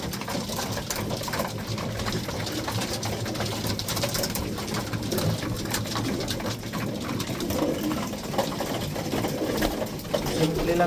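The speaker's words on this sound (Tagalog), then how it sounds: "Yun mga kalapatids, it's feeding time." Pet pigeons cooing at feeding time, with soft repeated low coos in a noisy setting, plus faint rustles and a few light taps.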